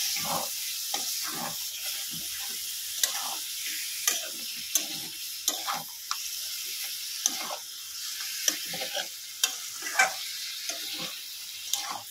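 Meat frying in ginger-garlic spice masala gives a continuous close sizzle, punctuated by regular clicks and scrapes as a spoon stirs the pan, with no talking.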